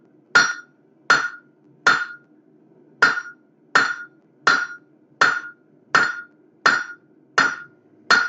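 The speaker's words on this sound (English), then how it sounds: "So you get a lot more pressure from each hammer blow." A blacksmith's hammer strikes a metal penny scroll for an S-shaped sign on the horn of an anvil, eleven sharp ringing blows at a steady, unhurried rhythm, loud and close with short decays and quiet between strikes.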